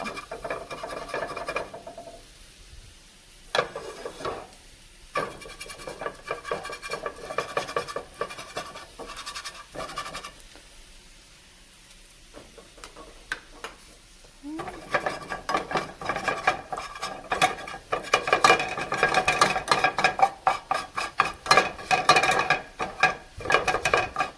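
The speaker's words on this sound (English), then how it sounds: "I'm going to cut the egg up and add the egg too" Egg is cut up and stirred in a pan during mu shu chicken cooking. A utensil scrapes and rasps against the metal in bursts, with quieter pauses, then a long busy stretch of scraping and clinking.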